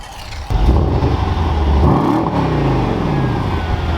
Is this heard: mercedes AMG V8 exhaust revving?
yes